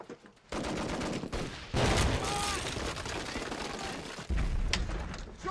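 Gunfire in a war film battle: dense bursts of rapid automatic fire and heavy shots, loud and continuous, with brief shouted voices mixed into the din.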